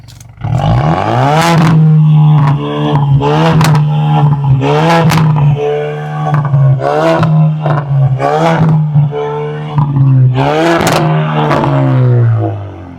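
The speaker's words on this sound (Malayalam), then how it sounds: "ഈ വണ്ടിന്റെ എക്സോസ്റ്റ് നോട്ട് കേൾപ്പിച്ചു തരാം" Loud, close exhaust note from a modified Ford Mustang as the throttle is blipped again and again over a deep, steady idle, each rev snapping up into a brief growl before dropping back.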